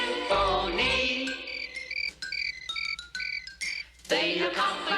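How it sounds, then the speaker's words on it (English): Crickets chirp in high, rhythmic, tonal bursts within a musical number from the 1972 animated film Oliver and the Artful Dodger. The chirps are layered over instrumental accompaniment, steady and fairly loud. "Listen to the crickets chirping their"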